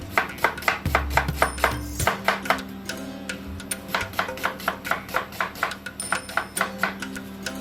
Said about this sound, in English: I'm going to show you how I'm going to cut the onions and how small I'm going to keep them